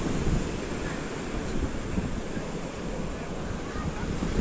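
Heavy storm surf on the Black Sea roars continuously with gusting wind, waves crashing over a breakwater in a dense, unbroken wash of water close to the microphone.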